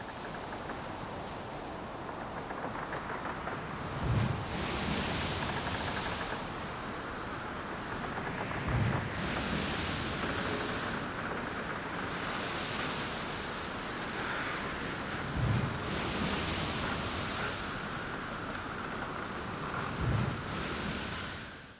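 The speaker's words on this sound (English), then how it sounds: "in 90-mile-an-hour winds during Storm Dennis, 3 tugs battle to tame Hogue Asia" Continuous rushing 90-mile-an-hour storm wind and surging sea noise around a car-carrier ship, with periodic low thumps of waves hitting every few seconds, no voices.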